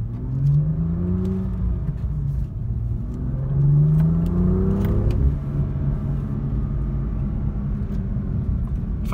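A BMW M2 in Sport Plus mode sends out a loud, continuous engine and exhaust note, heard from inside the car as the revs rise and fall through several smooth pulls, with no talking over it.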